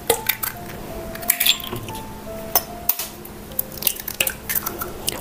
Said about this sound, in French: Je prends un autre petit bol et je vais casser mes œufs